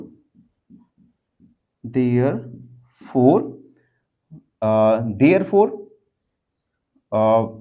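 A pen writes on paper during a Class 6 math lesson, making faint, brief scratching strokes in the pauses between a teacher's steady explanation.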